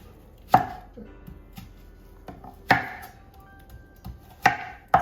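A knife chops tomatoes and peppers for a fermented salsa on a cutting board, with several sharp, distinct chops spaced about two seconds apart and quieter knocks between them.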